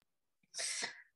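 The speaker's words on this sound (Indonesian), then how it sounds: "Aku mau batuk bentar." A single sharp, explosive burst, either a cough or a sneeze, close and loud. It comes after near-silence and lasts about half a second.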